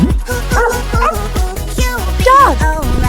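A dog barks and yips about seven times in a quick, steady rhythm, loud and close, with whimpering, squeaky tones between some barks.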